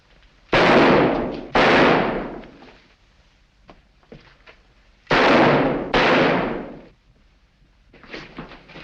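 Gunfire in a 1943 Sherlock Holmes mystery film: four loud, sharp bangs in two close pairs, each cracking hard and then trailing off in a short reverberant decay, with quiet pauses between them.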